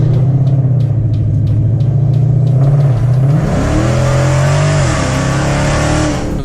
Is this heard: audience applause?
no